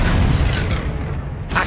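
A Confringo fire spell bursting in Hogwarts Legacy, heard as a loud, close, rumbling blast that decays over a second before a short fresh crackle at the end.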